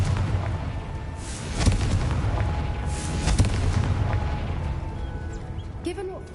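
Confringo blasting spell explosions in Hogwarts Legacy: two heavy booming blasts about two seconds apart over a steady rumbling game backdrop.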